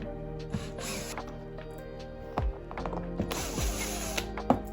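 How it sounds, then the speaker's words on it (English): A ratchet wrench clicks and whirs while car door bolts are unscrewed, bursts of rapid pawl ratcheting with metallic creaks and clunks, close up and alone. "I unscrew all required bolts."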